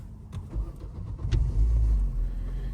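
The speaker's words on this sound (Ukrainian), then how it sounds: "Машина заводиться." An Opel Zafira B engine turned over with the ignition key, a short starter crank followed by the engine catching and settling into a loud, close idle.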